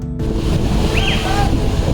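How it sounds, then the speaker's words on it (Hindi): Rushing river water near the Hogenakkal waterfall, a dense continuous roar with wind buffeting the microphone, loud and close, with faint voices in the background. "बाप रे क्या वाटरफॉल है"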